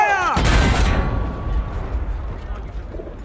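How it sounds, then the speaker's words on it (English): A single heavy artillery boom from a World War I battlefield scene in Battlefield 1 hits hard and loud, then rumbles and decays over a few seconds, following a shouted command. "All artillery! Fire!"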